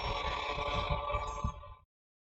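A phone ringing during an online JEE Advanced maths lecture: a steady electronic ringtone with pulsing tones plays for under two seconds, then cuts off abruptly into silence.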